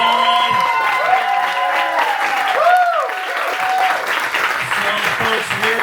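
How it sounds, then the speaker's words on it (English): Audience at a live book reading in a bookstore applauding author Lenore Zann, loud sustained clapping with scattered voices and chatter running through it. "Can we get another round of applause for Lenore Zann?"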